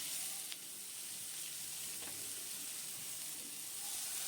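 A spice paste of cumin and coriander powder fries in a pan for a Bengali fish curry, giving a soft, even hiss and sizzle with a faint tap or two, quiet and uninterrupted.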